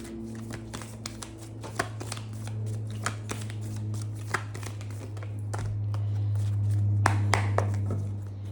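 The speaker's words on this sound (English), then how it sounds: "I just want to split the deck." A tarot card deck is split and shuffled with a run of crisp card taps and riffling clicks close by, over a steady low hum.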